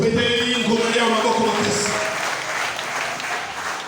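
A church congregation at Église M.E.S. Kabondo in Kisangani applauds in a sustained wash of clapping, with voices mixed in near the start before it eases off slightly toward the end.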